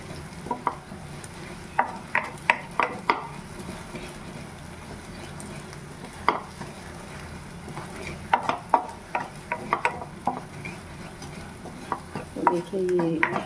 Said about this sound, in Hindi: देखिए ये हलवा गोल्डन फ्राई होने जा रहा है।